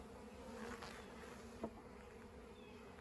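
Honeybees buzz around an open top bar hive during a spring inspection, a continuous low droning hum with individual bees passing close now and then, fairly faint and steady with no speech.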